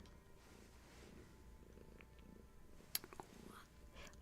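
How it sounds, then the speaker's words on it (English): A cat purrs softly in a lap during a quiet indoor livestream, a low, faint rumble that runs throughout, with one brief sharper sound partway through. "a lap full of purrs"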